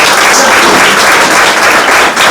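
Class 9 students applaud Beauty Kumari at a school prize-giving, a loud, dense burst of clapping filling the whole moment up close.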